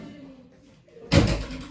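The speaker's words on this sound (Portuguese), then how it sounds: "Vem cá, fecha a porta." A door swung shut indoors at home, one sudden close thud after a quiet moment with faint voices before it.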